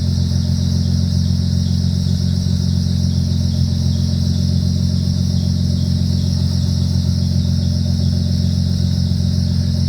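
A Nissan Z32 with a twin turbo conversion running on MicroSquirt idles steadily and loudly up close, a constant low engine drone with a high whine layered on top, unchanging throughout.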